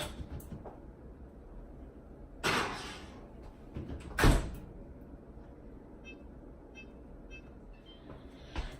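Oven door opening and shutting as a key lime pie crust goes in to bake, two sharp clunks a couple of seconds apart over quiet kitchen background, no talk.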